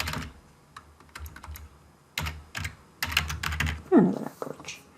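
Bursts of close, crisp keystrokes on a computer keyboard as VBA macro comment code is typed in Excel, irregular clusters of clicks with short pauses and no talking.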